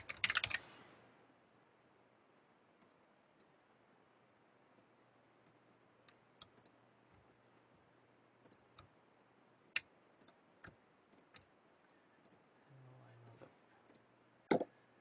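Text typed on a computer keyboard, sparse individual key clicks at irregular intervals, close and crisp in a quiet room after a short louder clatter at the start.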